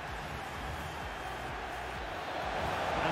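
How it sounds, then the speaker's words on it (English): Stadium crowd noise in a FIFA Ultimate Team Champions match, a steady broad roar of cheering fans that swells slightly toward the end, with no clear talk over it. "And she's being egged on by the crowd."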